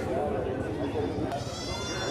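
Young goat kids bleat softly at the Haripur goat market, brief cries rising under loud nearby talk and crowd noise.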